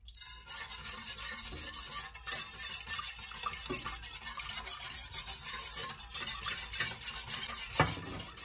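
Food stirred in a pot over medium heat while it comes to a boil, a continuous scraping and swishing of a spoon against the pot with small clinks, steady and close throughout.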